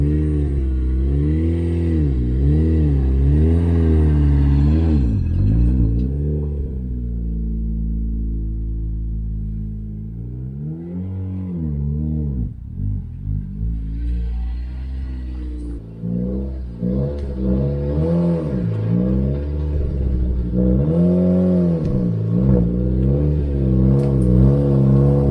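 A turbocharged Toyota Corolla engine runs and revs while the car is driven, rising and falling through several pulls of throttle with steady rumbling between, close and loud with no talk.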